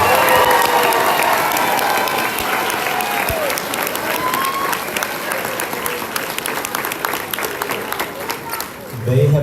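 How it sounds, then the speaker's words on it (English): Audience applause at a kindergarten music program in an elementary school, a dense, sustained clapping with some cheering, loud and continuous for most of the stretch before thinning out at the end. "How about one more round of applause for our kindergarten?"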